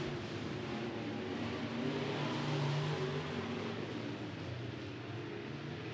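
Sport modified race cars circle a dirt oval at El Paso County Raceway, their engines droning steadily at mid distance with a brief swell as one passes, a continuous roar with no talk.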